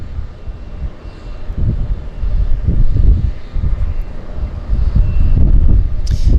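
A de Havilland Otter floatplane's engine drones steadily at Vancouver's downtown harbour, a rumbling low roar mixed with wind buffeting, swelling and easing without any voices.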